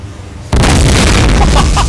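A gas station explodes in the video game DayZ, with a sudden loud, sustained blast roaring over quieter background sound after a brief lull.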